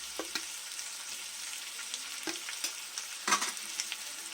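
Quail gravy seasoned with pepper and garam masala being stirred in a pan, a steady sizzle of frying with a few soft scrapes of the spoon against the metal, alone and without talk.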